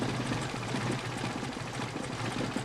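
A Mercedes 190SL engine with Solex PHH44 carburetors idling very low, around 350 to 400 RPM, giving a dense, steady rumbling drone with an even mechanical patter, close and continuous.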